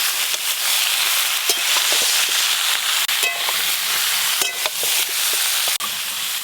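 Ridge gourd and potato pieces frying lightly in a pan, a loud, dense sizzle held steady throughout with scattered clicks and scrapes from stirring, close up and without voices.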